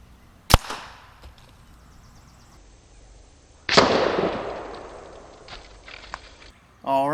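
An air rifle fires FX Hybrid slugs into apples, giving two sharp, loud cracks a few seconds apart, the second followed by a longer splattering decay, with a brief voice at the end.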